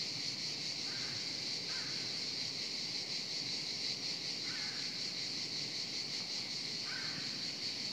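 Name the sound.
crow cawing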